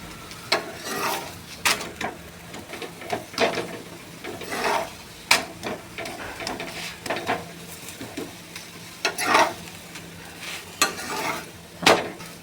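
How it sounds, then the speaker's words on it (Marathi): A chapati roasts crisp in a pan, giving soft, recurring scraping and pressing rubs at a fairly steady pace, close and moderately loud, with no talk. "चांगलं खुसखुशीत भाजून घ्यायचं चपाती."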